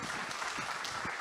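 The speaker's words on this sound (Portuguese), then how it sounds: "Quem aplaude a Deus aqui?" A church congregation claps together in dense, steady applause that fills the short stretch at even loudness, with no talk over it.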